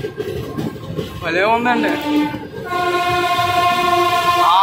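A train rushes past on the opposite track beside a moving train that has just left Cheepurupalli, its loud sustained horn blaring close by over a steady rumble, with a short spoken remark just before.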